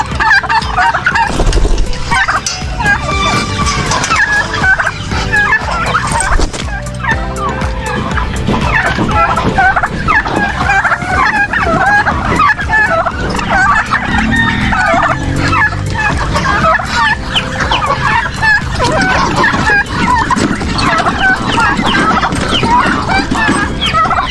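Free-range turkeys on a Philippine smallholding gobble continuously in a loud, crowded flock, their rippling calls overlapping with occasional chicken clucks and background farmyard noise, without talk.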